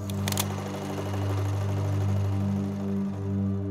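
A sewing machine runs in one continuous steady hum with a brief clatter at the start, close and fairly quiet, with no voices.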